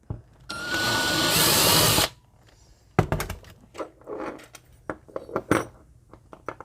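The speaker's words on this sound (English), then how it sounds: "it's just like drilling out the car." A power drill bores out a Hot Wheels die-cast toy car during customizing: one loud, steady whine for about a second and a half, then small metallic clinks, taps and rattles of parts being handled close by.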